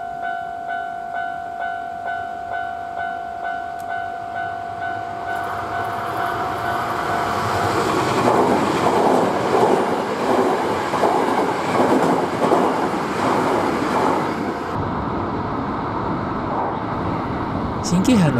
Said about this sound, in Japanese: JR 4本阪急2本の線路が並んで、列車は並走します